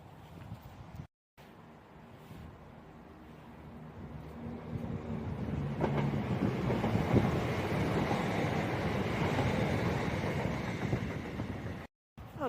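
A Class 170 diesel passenger train passes at Water Orton, a steady broadband rumble and rush building from a distance to a loud, sustained roar with wind buffeting the microphone and no talking.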